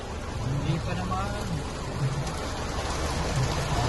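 Heavy rain pours down on a Quezon City street in a steady, dense hiss that never lets up, with a low rumble of traffic and engines underneath.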